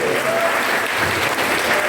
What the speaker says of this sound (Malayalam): ആദ്യത്തെ കയ്യടി ആക്കാണ് ഹരിതകർമ്മശാലയ്ക്ക് നല്ല ഉറച്ച കയ്യടി